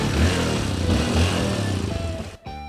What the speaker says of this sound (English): The CRF150L can be started in two ways.